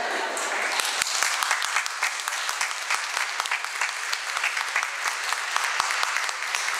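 Sustained applause from a concert audience at a song show, a dense, steady patter of many hands clapping throughout, fairly close and even in loudness.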